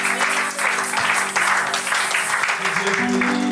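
A church congregation at a second-anniversary celebration cheers and claps for God, with steady, loud, continuous applause and a sustained musical tone underneath.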